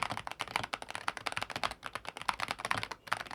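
Quick, steady typing on a budget magnetic gaming keyboard, a dense run of crisp clacks and taps close up, with no voices.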